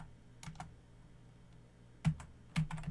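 Keystrokes on a computer keyboard while configuring ASA DNS filtering, in a few quiet scattered taps followed by two louder bursts of typing near the end.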